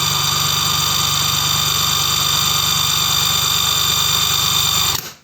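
A SHIDOKU G-1000 cordless impact wrench spins freely at top revs in its first speed setting, giving a loud, steady, close whine with a fast mechanical buzz that holds for about five seconds and then cuts off abruptly.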